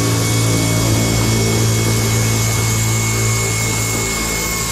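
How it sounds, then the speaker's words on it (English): A drill bores holes while a WingX STOL wing extension is fitted to a Cessna 172B wing, a loud steady whine running without a break from start to finish. "and now he's going to drill."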